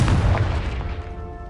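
A Confringo fire spell from Hogwarts Legacy bursts in a deep, booming blast that rumbles loudly at first and then decays into a long, fading roar.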